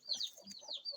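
Chickens on an Indian farm give short, faint clucks and chirps in a quick, broken series, close by and fairly quiet.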